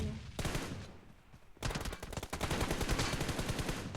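Gunfire in the video game PUBG Mobile: a burst of shots, a short lull, then rapid sustained automatic fire, loud and close.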